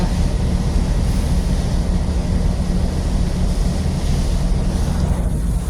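Strong southwest monsoon wind and heavy sea waves around a boat near another ship off Panabo, Davao del Norte, a loud, steady roar of gusting wind buffeting the microphone over continuous surf wash, with no talking.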